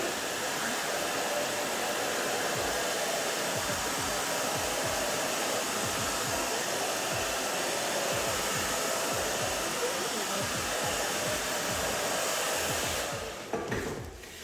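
A hair dryer blowing on short pixie-cut hair makes a loud, steady whoosh that runs nearly the whole time, then tapers off at the end.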